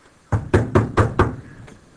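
An animation sound effect of knocking on a door: five firm, evenly spaced knocks, loud and close, with no talk over them.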